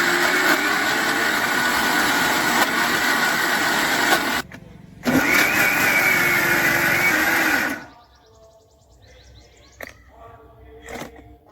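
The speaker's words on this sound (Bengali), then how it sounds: "এবার আমি বেটে দিচ্ছি, ভালো করে একটা পেস্ট বানিয়ে নেব" An electric kitchen mixer grinder whirs loudly while grinding soaked biuli dal into paste, running steadily with a brief pause, then cutting off, leaving a quiet room with faint bird chirps.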